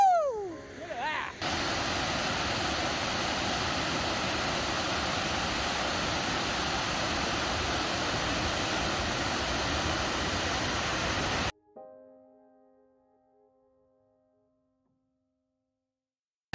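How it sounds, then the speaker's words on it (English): Water roars in a continuous broadband rush at a waterfall on a rainy backpacking trip, loud and steady for about ten seconds before cutting off abruptly, with a brief voice at the start and quiet tones after. "Hear the roar of the water."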